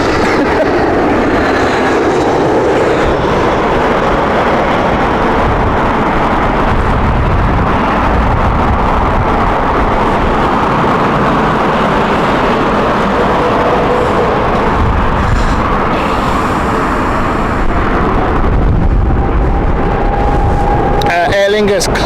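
An Aer Lingus jet in classic retro livery arriving at Heathrow in strong crosswinds, a loud, sustained engine roar with heavy wind buffeting that swells and lingers for the whole stretch.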